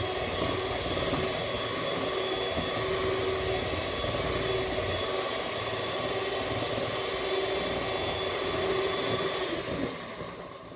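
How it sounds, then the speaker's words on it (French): An electric hand mixer beats sugar and eggs in a large bowl for a lemon cake, giving a steady loud whirring drone that carries on unbroken and then eases off at the very end, with no talk. "j'ai mis dans ce grand bol-là le sucre et les œufs que je vais commencer à battre maintenant"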